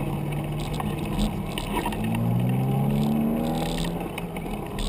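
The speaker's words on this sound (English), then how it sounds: "big truck coming, you can hear." A large vehicle rumbles past nearby, its engine tone rising and sliding in pitch over steady road and wind noise.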